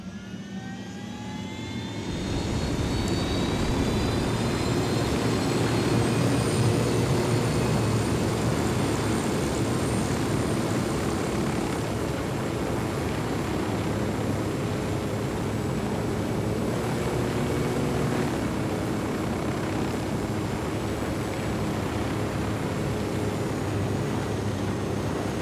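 An enemy drone in a video game mission drones in after a short silence, a loud, steady jet-like whine and roar with rising tones that holds near and constant to the end.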